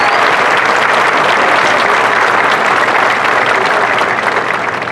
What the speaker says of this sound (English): Please give these individuals a round of applause